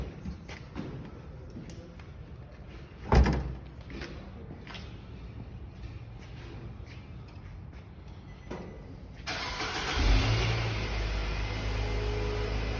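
A car engine cranks and catches, rising into a steady loud idle near the end after a quiet stretch with a few thumps and door sounds.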